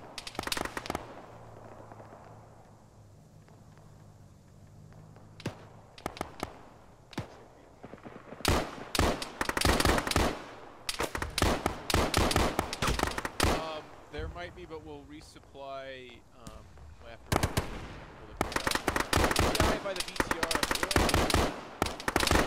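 Gunfire in the ShackTac military shooter game: bursts of rapid rifle and machine-gun shots, loud and close, starting around six seconds and continuing in clusters, with voices talking over the firing in places.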